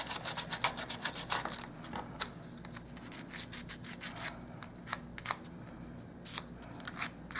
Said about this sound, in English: So I kind of like using the emery board when it's a small piece.